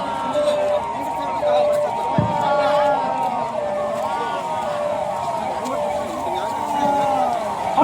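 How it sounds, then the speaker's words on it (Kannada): An ambulance siren wails as it arrives at a mock air raid emergency drill in Shivamogga, its rising and falling tone steady under a commentator's voice and crowd murmur. "ಆಂಬುಲೆನ್ಸ್ ಆಗಮನವಾಗಿದೆ."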